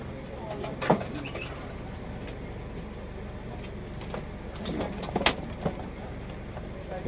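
Racing pigeons coo softly in a loft on a night when they are put into baskets, with low steady murmuring broken by a few sharp clicks and rustles nearby.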